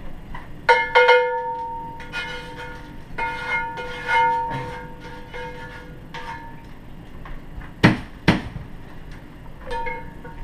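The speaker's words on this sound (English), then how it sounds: "So basically I'm gonna knock that into the trash." Metal clanks and rings sharply several times, a heavy cast iron skillet knocked against a trash container, with resonant tones lingering between the scraping hits.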